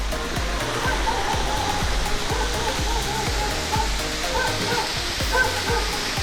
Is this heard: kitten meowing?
no